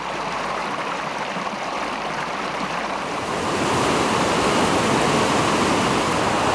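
A muddy stream rushes down near waterfalls, steady broadband roar of running water that swells louder in the second half, close and continuous with no voices.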